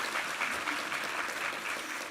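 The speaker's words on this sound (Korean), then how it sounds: "우리 하나님께 감사와 영광의 박수 올려드리겠습니다" A church congregation claps during a Sunday worship service, a short burst of dense, even applause from a crowd that holds steady at moderate distance without cheering.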